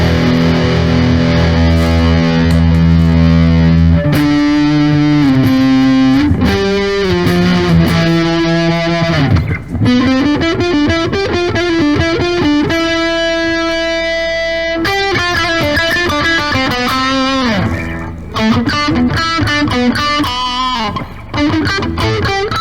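An Epiphone SG or Les Paul electric guitar rings out through heavy distortion, playing a continuous run of chords and sustained notes, loud and up close with no voices.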